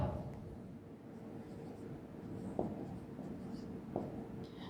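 A pen scratches figures onto paper in continuous soft strokes, close and quiet, with a couple of small taps and a faint background hum.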